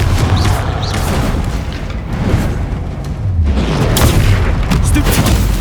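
Explosive Confringo spell blasts in the game Hogwarts Legacy during a troll fight, heavy booming bursts layered over a dense, continuous rumble of combat noise.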